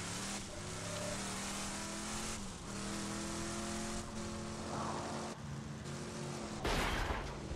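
Vehicle driving in the video game Borderlands 2: a steady, loud engine drone with shifting revs and a constant rumble throughout, joined near the end by a sharper burst.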